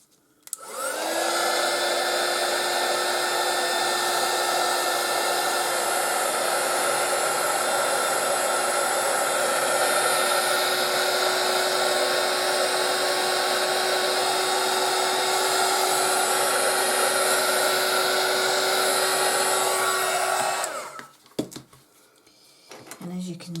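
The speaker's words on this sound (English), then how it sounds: "I'm just going to go over with my blower," A handheld blower runs steadily and loudly for about twenty seconds over an epoxy resin tray, a constant whooshing roar with a tonal whine that then cuts off, leaving brief handling clatter.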